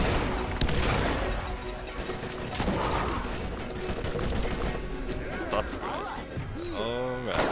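Gunfire and a grenade blast in the Borderlands co-op shooter, a dense run of crackling shots and impacts that stays busy throughout while voices talk over it.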